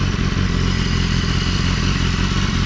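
A motorcycle rides along with a continuous loud engine drone and wind rumble, heard close up without any voices, with faint clatter over the steady tone.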